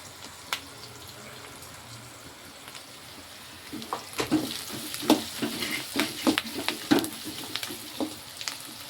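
Onions, mustard seeds, dried red and green chillies and curry leaves fry in a pan for prawn thokku. A faint hiss builds, and close stirring clicks and scrapes grow busier in the second half.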